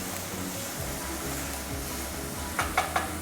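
Onion mixture sautéing in a pan, a steady low sizzle and frying hiss that runs throughout, ending in a few sharp clinks of a utensil against the pan.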